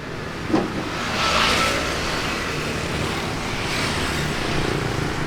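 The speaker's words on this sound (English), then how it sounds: "This is a very heavily congested traffic area." Heavy, congested road traffic in District 7, Saigon, a continuous dense wash of engines and passing vehicles heard from the roadside, steady and fairly loud with a brief rise as something passes close.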